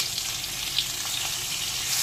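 Tomato pieces sizzle in hot oil with black cumin, already-fried potatoes in the pan, making a steady close hiss with faint crackles and one small sharp pop, without any voices.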